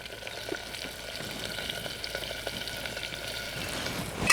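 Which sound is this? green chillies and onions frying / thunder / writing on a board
green chillies and onions frying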